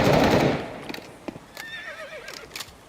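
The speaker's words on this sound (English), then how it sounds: "Was that a horse?" A horse neighs in a Counter-Strike match: a rising, wavering whinny follows a loud burst of noise at the start, with scattered sharp clicks and thuds around it, mid-distance and moderately loud.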